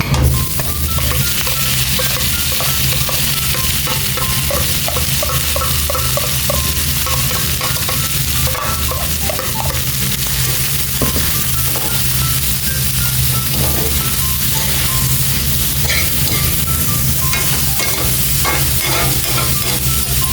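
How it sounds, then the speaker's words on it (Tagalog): Chicken being stirred in a hot pan while cooking arroz caldo: a steady, close sizzle of frying with continuous scraping and stirring throughout, no talking. "I-mix na natin yung chicken."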